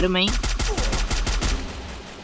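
Rapid automatic gunfire from the Free Fire battle royale game, a loud close burst of evenly spaced shots repeating about eight times, with a brief tonal game sound at the start.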